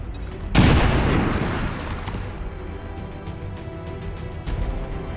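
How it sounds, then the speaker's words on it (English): A grenade goes off in the video game XCOM 2 with one loud, close boom that rumbles and fades over several seconds, leaving scattered smaller pops and debris clatter behind. "Throw a grenade."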